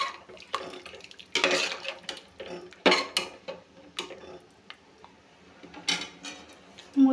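Mutton and rice are stirred in a cooking pot with water added, giving intermittent scraping clinks and knocks of a utensil against the metal, close and irregular.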